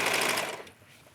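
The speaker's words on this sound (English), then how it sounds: "I like to just get it started, and then the machine will capture the fabric" A home sewing machine stitches fabric for a yoga top with mesh color-blocked inserts, a brief rapid mechanical rattle of needle strokes that trails off into quiet after about half a second.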